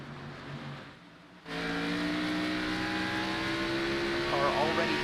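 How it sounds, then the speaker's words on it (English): Race cars in a virtual racing league event at Richmond roar off at the green flag, engines revving up sharply into a dense, loud whine after a brief lull, with commentary running over it. "There's green flags in the air, and Dylan Parker off and away."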